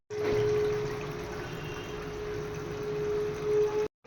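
Water is poured for cooking in a home kitchen: a short, steady stream with a watery rush and a faint running tone for about four seconds, close and alone.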